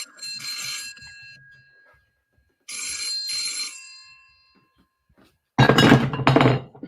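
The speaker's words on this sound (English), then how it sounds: "my phone's going off" A mobile phone rings in bright, trilling bursts, two separated rings with silence between them, close and clear, followed by a loud burst of a voice.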